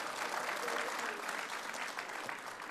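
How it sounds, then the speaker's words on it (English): Audience applause at a lecture honouring a NASA scientist, a short burst of steady crowd clapping filling the room with no clear speech over it. "vous pouvez applaudir"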